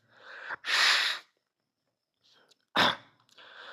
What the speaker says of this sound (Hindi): हैग्रिड ने एक रेशम का रुमाल निकाला और जोर से नाक साफ की।